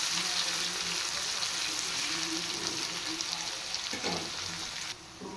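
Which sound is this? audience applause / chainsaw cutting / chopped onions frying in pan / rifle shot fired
chopped onions frying in pan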